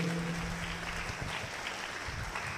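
Applause from a church congregation during a sermon, a continuous wash of clapping at moderate volume over a low hum, steady for the whole stretch.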